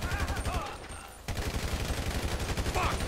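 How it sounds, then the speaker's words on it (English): Rapid, dense gunfire fills a Grand Theft Auto V heist shootout, continuous automatic bursts pounding close and loud, with a brief lull near the first second before the volleys resume just as hard. "So I guess we're shooting our way out of here."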